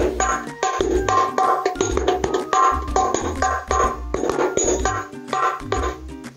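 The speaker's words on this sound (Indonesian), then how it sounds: "untuk memaksimalkan suara dari rebana ini agar lebih enak didengar" A rebana frame drum from Jepara, fitted with kencer jingles, is struck in a quick rhythmic pattern: booming hand hits mixed with bright metallic jingling, played close and fairly loud, with no talking.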